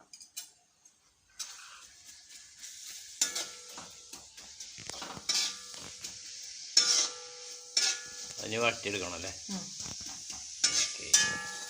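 Onion, ginger and green chili fry in coconut oil in a pan for a taro-stem kurma, with soft sizzling broken by irregular scraping, clinking stirring strokes of a spoon against the pan, fairly quiet overall.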